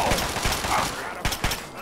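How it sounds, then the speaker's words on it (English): Rapid gunfire bursts in the video game Fallout 3 crack in quick clusters, with a voice talking over the shots. "Somebody shooting."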